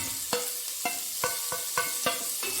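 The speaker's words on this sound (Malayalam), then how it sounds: "എല്ലാം കൂടി ഒന്ന് വഴറ്റിയെടുക്കാം" Green chillies, garlic, ginger and sliced onion are stirred in a pan, with a soft sizzle under regular scraping strokes of a spoon, about seven evenly spaced, close up and without speech.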